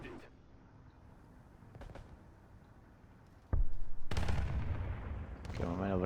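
A tank gun fires in a World of Tanks-style video game from a Strv 74, one heavy boom followed by a loud rumbling engine and battle din, with someone talking over the quieter stretch before it.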